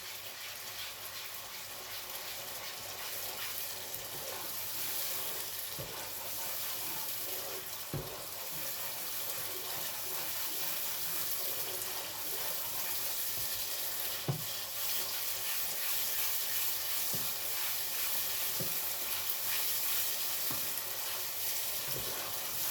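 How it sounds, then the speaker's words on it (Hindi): Yogurt fried with spices and stirred in a pan while making mutton kofta gives a steady, even sizzle lasting the whole stretch, broken by occasional soft scrapes and taps from the spoon. "अब हम इसको मसालों के साथ अच्छी तरह से भून लेंगे।"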